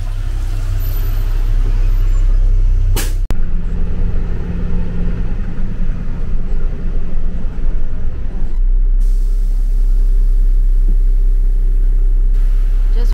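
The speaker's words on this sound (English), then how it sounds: "Let's just take a bus." Steady low rumble inside a bus on the Faroe Islands, with a sharp hiss and knock partway through, then the engine note drops into a quieter, continuous drone.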